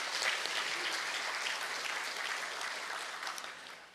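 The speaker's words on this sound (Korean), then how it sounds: "박수하겠습니다." Church congregation applauding during a Sunday service, a full, steady round of clapping from many people that tapers gently over a few seconds.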